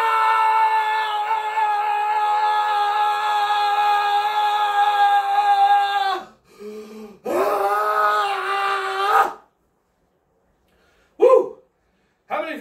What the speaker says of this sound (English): We're going to scream as loud as possible.